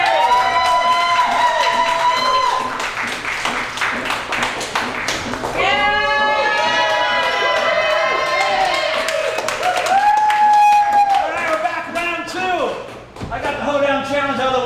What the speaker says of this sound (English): All right, let's clap it up for them.